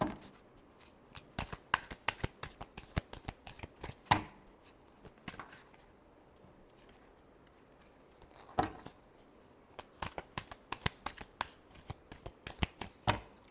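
Tarot cards being shuffled by hand, rapid crisp riffling slaps and flutters in irregular bursts with brief quiet gaps, close and clear with no talking.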